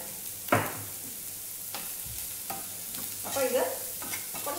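Vegetables sauté with a little salt in a pan for a bread pizza pocket filling, irregular close spoon scrapes and knocks over a soft, low sizzle.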